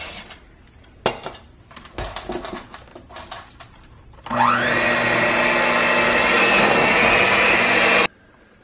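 Sugar cookie dough, gluten-free, in a bowl: a few clattering knocks and scrapes, then an electric mixer whirs loudly and steadily for several seconds before cutting off abruptly.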